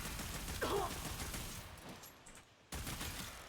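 Rapid automatic gunfire from the video game Warframe, a dense, fast stream of shots that runs nearly the whole clip with a brief gap near the end before resuming, with a faint voice in the background.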